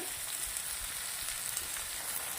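Okra frying in oil in a pan makes a soft, steady crackling sizzle, fairly quiet and continuous with small pops, and no talking.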